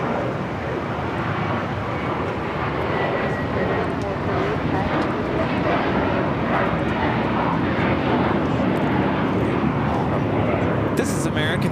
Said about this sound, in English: This is American Airlines 238 taking off to JFK on the A321.